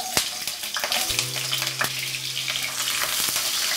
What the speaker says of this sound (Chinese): 锅烧热后加点油，爆香葱姜蒜